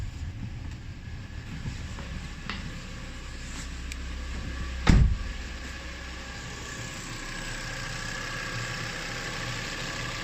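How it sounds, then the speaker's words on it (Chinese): A Volvo 2.5T engine idles smoothly and quietly after an oil separator diaphragm replacement, a steady low hum with one brief louder knock midway, no talk. "那么整个发动机运转的非常的平稳，声音也很轻之前这个口哨声现在也没有了。"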